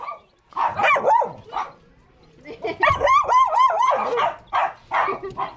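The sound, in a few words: many dogs barking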